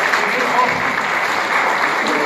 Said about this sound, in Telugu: మీరందరూ కొంచెం చప్పట్లు కొట్టి ఎంకరేజ్ చేస్తే